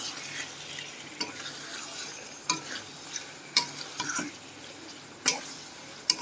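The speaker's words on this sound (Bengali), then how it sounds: "মাংসটাকে এখন মশলার সাথে কষাচ্ছি, একসাথে ম্যারিনেট করছি।" Chicken pieces sautéing with spices in a pan, a low continuous sizzle broken by sharp spatula scrapes and clacks at irregular intervals, close and fairly quiet.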